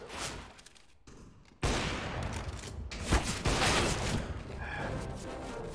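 Bursts of video game gunfire, loud and near, starting after a brief quieter lull and continuing as a rapid volley with a sharp crack partway through, while someone talks faintly underneath.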